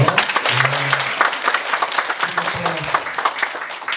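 An audience at a community care talk concert claps in warm, sustained applause, dense and fairly close, while a voice speaks briefly over the clapping.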